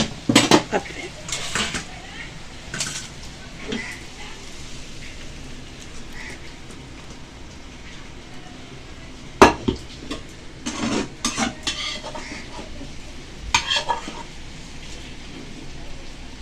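Khaarkol leaves and stems, already softened, being stirred in a frying pan, with scattered scraping clinks of a utensil against the pan over a faint background hiss.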